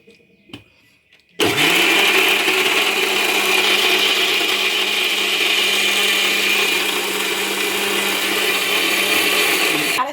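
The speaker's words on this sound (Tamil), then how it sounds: "வாழைப்பழம் இப்போ மிக்சி ஆன் பண்ணிவிட்டு நல்லா செட் ஆகும்." An electric mixie blender grinds bananas for cake batter, starting after a few soft clicks and then whirring loudly and steadily at close range for the rest of the time.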